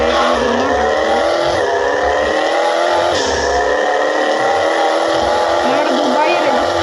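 A car in Extreme Car Driving Simulator revs hard and skids, its engine tone rising and falling in sweeps with tire squeal, loud and continuous throughout.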